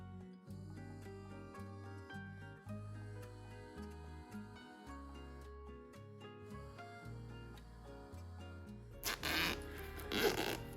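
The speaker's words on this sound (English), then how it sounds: "Pull the zipper all the way through on the other side and reinsert it again." A couple of quick zips of a zipper pull along a sewn zipper pouch near the end, following a stretch of music.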